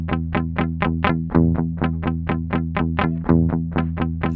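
Guitar layered with a BOSS DD-20 Giga Delay looper, repeated plucked chords at a steady quick pulse stacking into a thick, effect-laden loop, loud and without talk.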